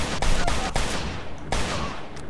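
A police revolver fires several sharp, loud shots in Mafia II, irregularly spaced over a couple of seconds amid other game gunfire.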